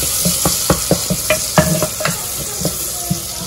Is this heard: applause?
no